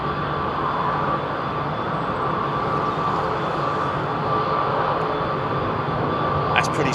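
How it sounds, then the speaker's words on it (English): An Airbus A300 airliner taking off at London Heathrow, a sustained loud roar of engines that holds steady throughout. "Indeed, Airbus A300."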